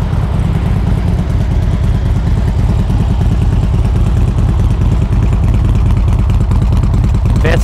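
A Harley-Davidson Street Glide FLHX motorcycle engine runs steadily nearby, a loud, continuous, even rumble with a fast throbbing pulse and no breaks.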